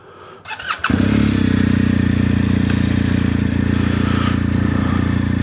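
Scooter engine starting with a short rattle, then idling loud and steady nearby in a busy area near the Eagle's Nest in Berchtesgaden, Germany.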